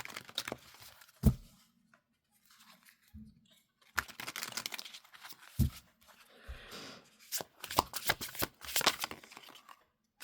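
Animal oracle cards being shuffled by hand, with bursts of papery riffling and flicking that come and go in uneven clusters, fairly close and soft, separated by short quiet pauses.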